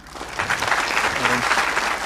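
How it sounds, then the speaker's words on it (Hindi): An audience at a talk by Acharya Prashant breaks into loud, sustained clapping that swells quickly and holds as a dense rattle, with a brief voice rising beneath it midway. "ये ताली किसके लिए बज रही है?"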